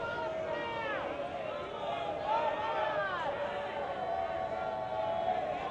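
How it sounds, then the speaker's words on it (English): A baseball crowd jeers the umpire at an amateur game, a steady mass of voices and heckling spread across the whole stretch, loud and continuous rather than isolated shouts. "Crowd getting on the umpire."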